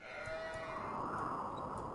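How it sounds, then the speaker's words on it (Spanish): Sheep bleat in the strategy game Age of Empires II, a steady high bleating held for about two seconds over a faint game background. "¡Oh, ovejas!"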